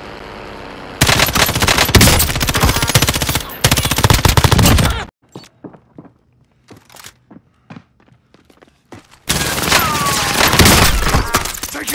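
Gunfire in the Warzone video game: dense bursts of automatic weapon fire rattle loudly for several seconds, break into a quieter stretch of scattered single shots and impacts, then resume as heavy sustained firing.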